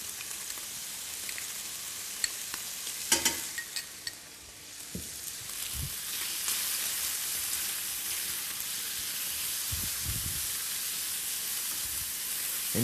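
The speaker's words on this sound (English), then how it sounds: "And you fry it nice and crispy" Red peppers and bacon sizzle and crackle steadily in a frying pan, with a hiss that stays dense throughout and a few clicks of stirring utensils.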